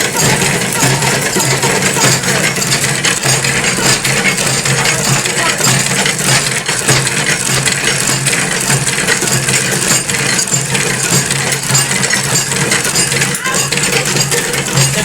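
A batasa sugar candy making machine from a Bandel machinery maker runs steadily with a dense, continuous mechanical clatter and rattling throughout, loud and close, with busy workshop noise and some voices mixed in.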